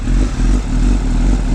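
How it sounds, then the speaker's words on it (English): A 2018 BMW S1000RR sport bike with a loud Akrapovic exhaust idles close by outside a BMW service shop, giving a constant, heavy, throbbing engine drone with no break. "Yeah, my exhaust is pretty loud now"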